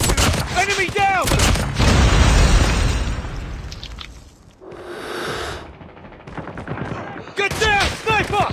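Shotgun blasts in a shooter video game ring out in several close, loud bursts amid chaotic battle noise, with game voice callouts heard between shots.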